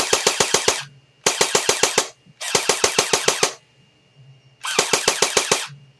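A JG Mac 10 airsoft electric gun on a partly drained battery fires four close, loud full-auto bursts of about a second each, every burst a fast, even rattle of mechanical clacks with short gaps of quiet between.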